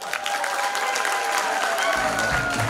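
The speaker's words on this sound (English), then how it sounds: "Please clap for Monica Nyele." An audience applauds steadily and loudly throughout at a live Kenyan report launch event on teen pregnancies, welcoming a story award runner-up with dense, sustained clapping.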